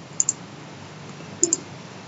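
A computer mouse clicks twice in quick double pairs while drafting in AutoCAD, crisp and close against a quiet background.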